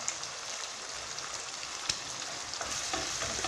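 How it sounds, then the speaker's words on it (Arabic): Fresh tomatoes frying with canned tomato, salt, cumin and parsley in a pan for a red sauce, giving a dense continuous sizzle and crackle up close, with a sharp tick or two of a utensil; no talking. "نقلي مليح هذيك الطوماطيش تاع الحب"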